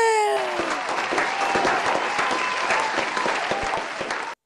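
An audience bursts into dense, even applause for an Odia comedy spoof about the India–Bangladesh T20 final, the clapping beginning right after a brief sliding tone and then cutting off abruptly.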